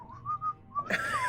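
A person whistles along to elevator music, a wavering melodic tune that carries through the first half, then breaks off into a louder burst of mixed noise and vocal sound near the end.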